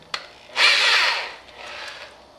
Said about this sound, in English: I drill that through there before I cut it out.